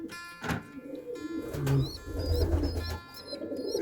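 A white Iranian pigeon coos in a loft, with low rhythmic coos in the middle of the stretch and a few brief higher chirps from nearby birds, fairly close and moderately loud.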